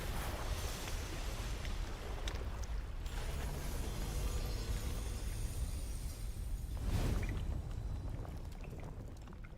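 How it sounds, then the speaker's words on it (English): Water draining away in the video game Genshin Impact makes a steady, rushing wash that fills the whole stretch and swells briefly near the end, heard alone without speech. "Oh no, they're actually getting rid of the water."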